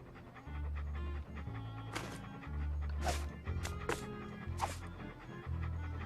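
A cartoon dog in the Monkey Island 2 adventure game pants steadily in quick rhythmic breaths over looping low game music, with a few sharp effect sounds on top.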